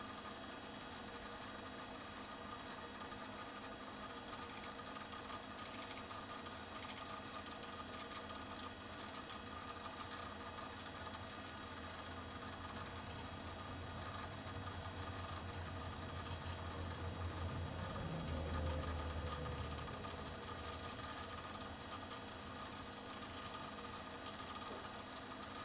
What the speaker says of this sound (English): we can take a look at the spindle drive motor because it is exposed and it's belt driven